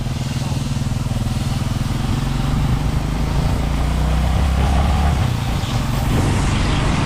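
Motorcycle carrying a rider and a passenger, its engine droning loud and steady throughout with a constant low pulsing rumble and wind noise.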